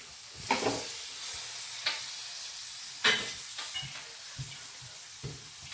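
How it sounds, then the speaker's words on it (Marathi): Grated carrots frying in hot ghee in a pressure cooker, heard as a low sizzle with a few sharp stirring and scraping clatters spaced a second or so apart. "आता मस्त कुकरमध्ये टाकते बघा आता तापलेलं आहे तुपामध्ये"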